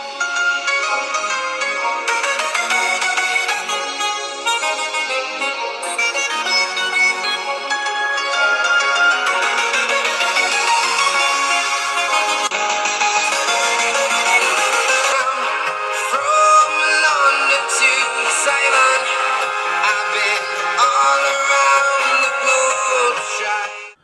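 A ringtone plays loudly through the dual stereo speakers of an Asus ROG Phone 3, a dense, continuous melodic tune lasting throughout with steady volume and no talking.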